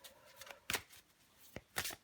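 Tarot cards being shuffled and drawn make a few quick, close riffling and snapping bursts separated by short pauses, fairly faint overall.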